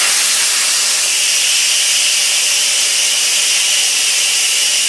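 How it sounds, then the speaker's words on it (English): An Instant Pot pressure cooker doing a quick release, its back valve turned to venting after cooking lasagna, blasts a loud, steady, broadband hiss of escaping steam that stays constant throughout. "I'm just going to turn the knob that's in the back from sealing to venting"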